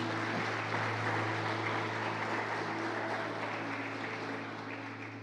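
A church congregation applauding together, a steady dense wash of clapping over a low hum that slowly fades toward the end.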